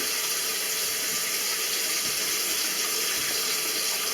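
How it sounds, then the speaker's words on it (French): Cold water runs steadily from a sink tap during a toilet leak repair and drain unblocking job, a continuous broadband splashing hiss close by with no speech. "On laisse couler, l'eau froide, hein, ça coûte moins cher."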